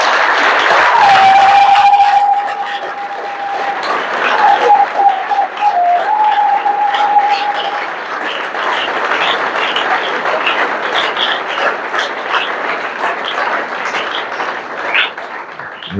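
A church congregation breaks into sustained applause with cheering, a long, dense wash of clapping with a held vocal tone early on, then fading slightly toward the end.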